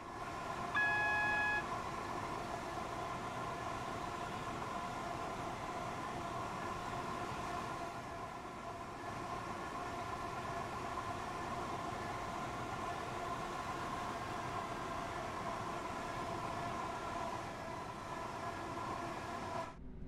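A Class 465 electric train runs steadily in Train Sim World 3, its motor hum and wheel rumble continuous and close, with a brief warning tone early on.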